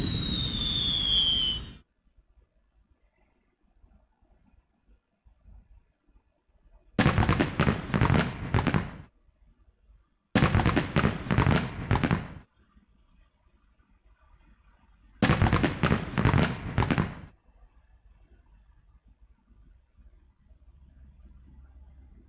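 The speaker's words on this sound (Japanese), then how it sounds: "さっきの特大花火、マジすごかった。" Three separate bursts of video game fireworks from Tokimeki Memorial Girl's Side 3, each a couple of seconds of rapid crackling pops and bangs, divided by quiet gaps, with a louder burst at the very start.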